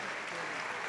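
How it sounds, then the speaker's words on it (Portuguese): Brief, dense applause from a church congregation, a continuous wash of many hands clapping at once. "Aplaude o Senhor Jesus."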